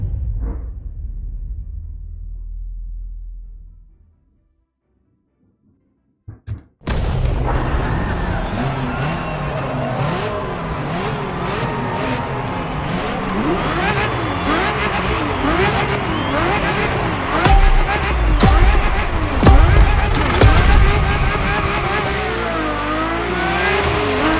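A Ferrari F50 in The Crew Motorfest: after a low rumble and a moment of silence, the engine bursts into a loud, sustained howl with repeated revving sweeps up and down through gear changes, close and continuous.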